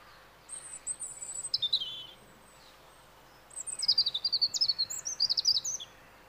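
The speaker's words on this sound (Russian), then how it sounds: "Вот так вот можно запомнить пение зарянки." European robin song, two bursts of high, thin, rapid twittering phrases separated by a short pause, clear and fairly close against a quiet background with no voices.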